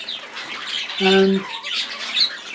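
Zebra finches kept in a shed aviary give a short, loud, nasal squawk that sits close over a bed of faint chirps, with a brief spoken word just before it.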